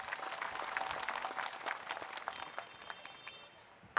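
An audience applauds the president and committee members at a family community festival, a steady patter of many hands clapping at moderate distance that thins out and fades toward the end.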